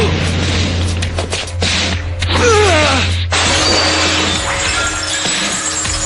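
Glass shatters loudly in an animated fight scene, with crashing impacts and a bright spray of breaking shards over a steady low hum, followed by lingering tinkling debris.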